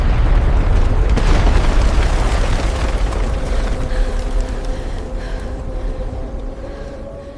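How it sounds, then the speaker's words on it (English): The second major volcanic blast of Krakatoa in 1883 gives a deep, loud booming roar that starts strong and slowly fades over several seconds, a rumbling low-heavy explosion with no voices. "The second major blast comes at 6:44"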